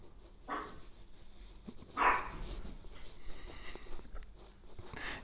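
A dog barks somewhere in the background behind a kitchen, with a short louder bark burst standing out against low room noise; no one speaks.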